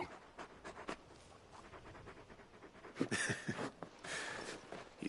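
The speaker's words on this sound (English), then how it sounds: "You're just a big puppy, aren't you?" A very big dog panting in Final Fantasy XVI, quick rhythmic breaths fairly close over soft game ambience, with a few footstep-like thumps and a brief louder rustle near the end.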